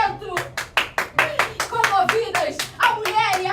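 Applause from a crowd: brisk, fairly close clapping in an irregular patter lasting several seconds, with voices mixed in underneath.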